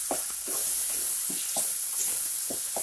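Roasted, peeled and roughly chopped eggplant fried and stirred with a spatula for baingan bharta, a continuous close sizzle broken by repeated scraping strokes at an uneven rhythm.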